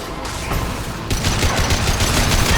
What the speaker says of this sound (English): Sounds like they are just shooting the floor.